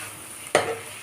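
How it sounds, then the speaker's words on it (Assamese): Chicken being stirred and fried in a pan for gravy: a single sharp scrape of the spoon bursts out over a faint background sizzle, then fades quickly. "দেখিছেনে অলপ দেৰি এনেকৈ ভাজি লৰাই মেলি লোৱাৰ পিছত"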